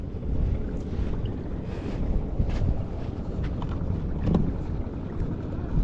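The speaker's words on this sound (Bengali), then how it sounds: "অনেক দূর দিয়ে নৌকা চলছে।" A boat moves far off on the Jamuna river by a riverside cattle camp. Its low, steady rumble is blended into continuous wind buffeting and broad outdoor noise.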